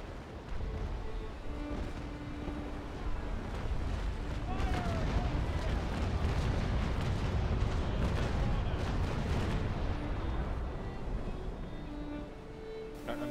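Ship cannons in the Naval Action sailing game fire as a dense, rolling barrage of booms and thuds that runs for several seconds and fades toward the end, with voices talking over the battle.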